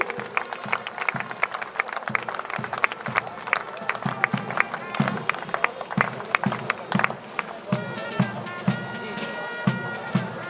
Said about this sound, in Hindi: जोरदार तालियां सेंट्रल रेलवे के लिए।